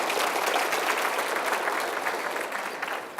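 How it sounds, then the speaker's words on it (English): An audience at a Mesquite city update event applauds, a steady wash of clapping at moderate volume that carries on for several seconds without talk. "let's give everybody a round of applause for being here tonight"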